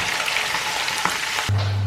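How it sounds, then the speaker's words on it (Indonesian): Jengkol beans fry in a pan with a steady, close crackling sizzle, and a sharp stirring clatter comes near the end. "Lalu di sini kita akan ngegoreng si jengkolnya sebentar."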